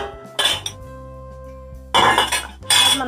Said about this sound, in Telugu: మూత తీసుకోవాలనుకుని కదా మూత తీసుకున్నాను